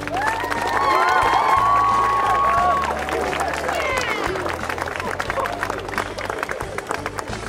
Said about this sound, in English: the students owe the steel workers a round of applause